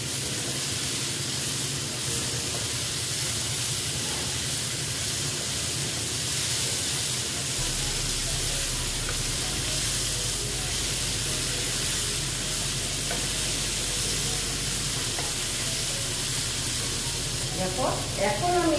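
Potato and okra stir-fried with salt in a pan for aloo bhindi, giving a steady broadband sizzle that runs the whole time with faint scraping of stirring underneath.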